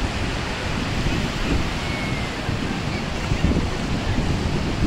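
Ocean waves rolling in at a beach, a continuous loud wash of surf mixed with wind buffeting the microphone, the rush swelling slightly toward the end.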